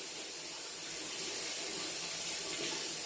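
Tap water runs steadily into a kitchen sink while peeled food is rinsed, a constant close splashing hiss with no voices.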